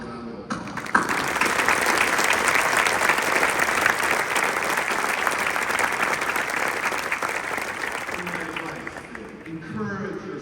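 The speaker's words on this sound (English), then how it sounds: "Let's have a round of applause." A large convocation audience at the University of Oregon breaks into applause, a sudden dense burst of clapping that holds loud and steady for several seconds before tapering off toward the end.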